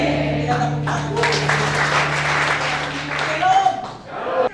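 A church congregation at a Sunday service claps hands together in a brief burst of applause, blended with a held voice and reverberant room sound, fading out near the end.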